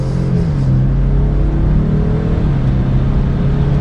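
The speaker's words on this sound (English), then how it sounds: "And we'll do one last acceleration for today's video." A Land Rover Defender 90 or Ford Bronco engine accelerates hard, its loud, close roar climbing steadily in pitch over a few seconds with a constant rumble underneath.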